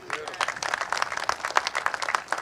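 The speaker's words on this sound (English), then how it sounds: "big round of applause for the government" Crowd applause at a PC campaign rally in Brampton East, a dense spread of many hands clapping with cheers mixed in, steady and fairly loud throughout.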